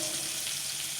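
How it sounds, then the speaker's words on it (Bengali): Chopped onions sizzle steadily in hot oil, a continuous bright frying hiss with no talking. "পেঁয়াজগুলো একটু ভাজা হোক"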